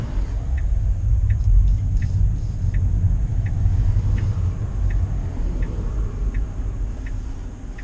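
A small Kia electric car drives along, a steady low road rumble and tire roar filling the cabin at close range with a faint, regularly repeating tick over it, and no voices.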